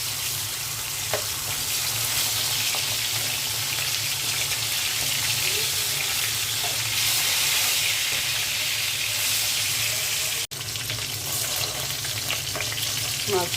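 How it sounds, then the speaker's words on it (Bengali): Fish fry in hot oil in a home kitchen, a loud steady sizzle and crackle throughout, with a brief sharp clatter near the end. "তেল দিয়ে দিচ্ছি, মাছগুলো ভেজে নেব।"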